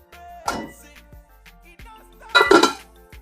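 A lid is set onto a pot of egusi pepper soup, heard as two distinct metallic clanks with a quieter clink or two between them, close and alone.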